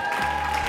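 Applause from an audience at a charity auction on a race day, a brief, dense wash of clapping at moderate volume with a steady tone ringing underneath.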